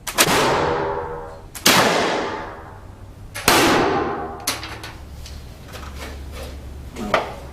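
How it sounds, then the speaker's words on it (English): Shots from an original Waterloo-period musket fire 3/4-inch lead balls into an artificial torso, giving three sharp, loud reports that decay into long reverberant tails, then several fainter knocks and clatters. "Ivan shoots the torso using 3/4-inch lead musket balls from an original Waterloo period weapon."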